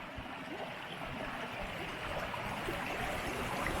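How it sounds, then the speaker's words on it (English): Torrents of rainwater pour off Lake District fells after a few hours of heavy rain, making a steady, broad rushing roar of running water that fills the whole stretch at an even level. "Torrents of water coming off the fells."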